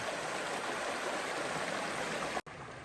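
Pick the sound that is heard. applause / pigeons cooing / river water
river water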